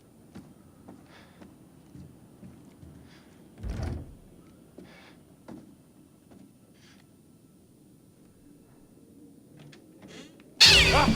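A cat meows in The Devil In Me video game, a few scattered short calls among quiet footsteps and small room noises, followed by a sudden loud burst at the end.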